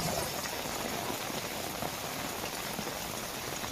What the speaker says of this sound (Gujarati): ધીમીધારે વરસાદ વરસતા વાતાવરણમાં ઠંડક પ્રસરી હતી